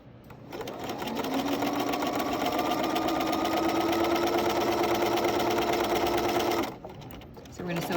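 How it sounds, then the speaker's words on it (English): Sewing machine stitching a patch pocket onto fabric, a steady close whirring run that starts after a brief pause and stops near the end, with quiet handling afterward. "So we're gonna sew it back to the top here,"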